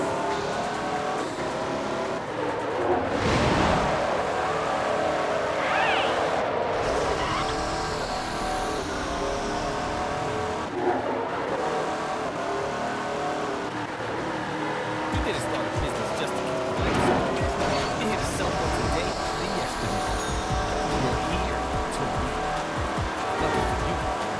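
In Midnight Club 3, an SUV races through a big-rims tournament. Its engine revs and drones steadily, with tire squeals and other cars sweeping past, while a player talks over the racing.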